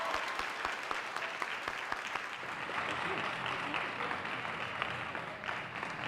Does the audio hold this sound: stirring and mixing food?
no